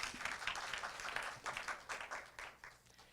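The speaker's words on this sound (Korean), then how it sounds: "박수 부탁드릴게요" A lecture audience claps softly and unevenly, the applause swelling and fading in loose bursts before trailing off.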